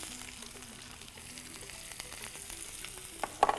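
Onions hit hot groundnut oil right after mustard seeds are tempered, giving a steady, close, crackling sizzle throughout with a few sharper pops near the end.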